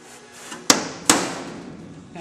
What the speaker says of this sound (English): you take your punch, which is, you know, simple, everybody does it. And you punch the center of the rivet.